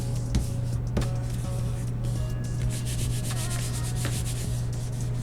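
A Dollar Tree craft item is distressed by steady rubbing, a continuous close scraping hiss over a constant low hum, with a few sharper scuffs.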